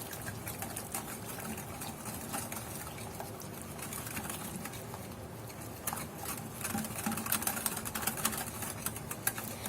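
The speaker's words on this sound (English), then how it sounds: "And whisk it again." Fresh curd batter being whisked by hand, a soft, fast, steady patter of whisk against bowl that continues throughout, fairly quiet and close, with no voices.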